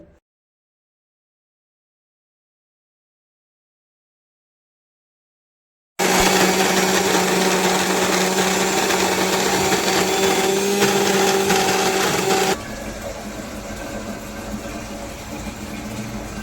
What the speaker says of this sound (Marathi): अशा प्रकारे आपलं वाटण बारीक वाटून झालं आहे